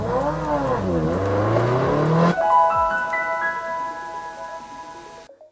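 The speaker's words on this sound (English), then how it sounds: "It's a very interesting startup animation there with audio as well, the car revving up." A startup animation on a $150 Breteuil Android car head unit plays a loud recorded car engine revving up and falling, then gives way to steady electronic tones before cutting to silence.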